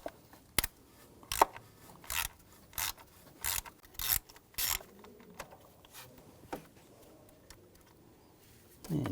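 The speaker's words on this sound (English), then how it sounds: "Take this screw out." A socket wrench ratchets a screw out of the coil hold-down on a 2006-2010 BMW 550i 4.8L V8, giving a dozen or so short, crisp rasping clicks in an uneven rhythm, close and faint against a quiet background.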